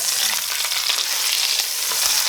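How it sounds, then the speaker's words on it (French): Lamb shoulder sizzles steadily as it browns in olive oil in a cast-iron pot, a close, continuous bright frying hiss with small crackles and occasional stirring, no talk. "j'ai tapissé le fond de ma cocotte avec de l'huile d'olive et je viens faire dorer mon épaule sur toutes les faces"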